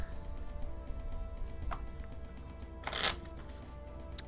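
A deck of cards being shuffled up close for the board game A Witch's Pilgrimage. Soft continuous card rustling is broken by two brisk riffle bursts, the second louder, with no talking.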